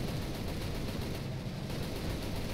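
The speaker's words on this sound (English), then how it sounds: "Ah, my guns are overheating." Aircraft machine guns fire in the combat flight game War Thunder, a dense continuous rattle of rapid gunfire at moderate loudness throughout, with no speech.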